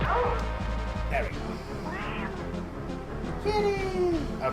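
A cat in the Batman and Robin video game meows several times, with rising and falling cries among game crashes and thuds over a continuous background.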